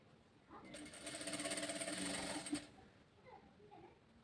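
A sewing machine stitching a princess-cut blouse runs in one burst of rapid whirring lasting about two seconds, close and moderately loud, with quiet handling sounds before and after.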